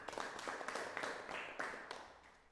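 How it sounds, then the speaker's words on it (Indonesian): Classroom applause for a student group, a quiet patter of many hands clapping in irregular bursts over about two and a half seconds, slightly fading at the end. "Berikan tepuk tangan"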